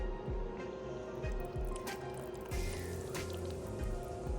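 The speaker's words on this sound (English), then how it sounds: "Now we're going to pour our mixture into the cups, up into that line." A thick mango sorbet mixture is poured into cups, giving soft repeated squishy glugs and drips at a quiet level with a low steady hum behind it, no talking.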